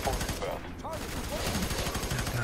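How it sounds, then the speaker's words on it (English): Heavy gunfire in the video game FEAR 3, in a slum level: dense, rapid automatic bursts rattle on steadily throughout, fairly loud, with a voice talking over the shooting. "God damn, no kidding. Heavy fire."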